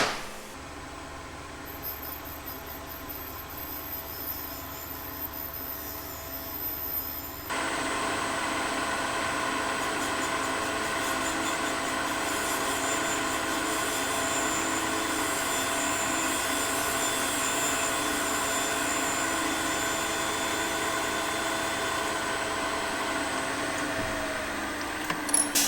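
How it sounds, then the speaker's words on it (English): Grinding of engine valves in a machine shop that is also working on a Datsun cylinder head: a steady, loud mechanical whine and hiss that gets noticeably louder a few seconds in and then holds constant. "So I'm going to grind the valves as well."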